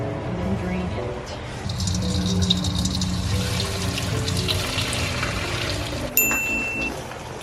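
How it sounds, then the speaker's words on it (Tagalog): Pasta cooking water is drained off into a sink, producing a steady rushing pour and splash that runs continuously for several seconds with a brief sharper clatter near the end. "I save another cup of pasta water and then drain it."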